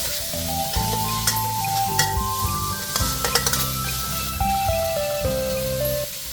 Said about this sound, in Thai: ผัดเขาให้หอมดีแล้วก็ให้เปลี่ยนสีเลย